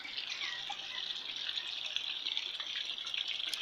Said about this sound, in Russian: Здесь вот такой вот фонтанчик